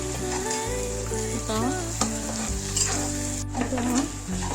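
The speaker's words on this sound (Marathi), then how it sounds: "आपण इथे लसूण तळून घेणार आहोत। लसूण आपल्याला छान कडक होईपर्यंत तळायचं आहे।" Garlic frying in hot oil until crisp for a spiced chivda snack mix, a loud steady close-up sizzle and crackle that runs throughout with no talking.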